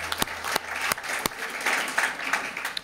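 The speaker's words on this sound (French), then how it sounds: "vous avez bien fait de lancer les applaudissements" Applause from a conference audience at a climate change talk, a dense roomful of clapping with a few sharp louder claps standing out, steady throughout and with no voices over it.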